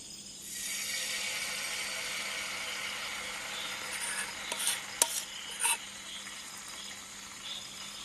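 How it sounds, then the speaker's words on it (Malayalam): Dosa batter cooking on a hot pan at a night campsite in the hills, a faint, steady sizzle with a few brief scraping and clinking sounds near the middle. "അങ്ങനെ ആദ്യത്തെ ദോശ ഒന്ന് ചുട്ടു നോക്കാം."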